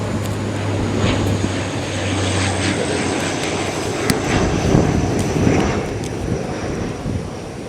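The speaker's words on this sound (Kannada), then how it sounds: "ಹಾಗೆಯೇ ಏರೋಪ್ಲೇನೆ ಹೋಯ್ತು." A propeller-driven airplane passes overhead outdoors during light rain, a broad, steady engine drone that swells and slowly fades, mixed with wind buffeting the microphone.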